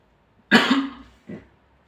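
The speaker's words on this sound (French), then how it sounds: "Vraiment que moi j'ai un peu la toux là." A single loud, close cough from a man preaching about a wedding feast, followed by a softer second cough and a brief throat sound after short pauses.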